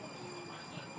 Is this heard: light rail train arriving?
yes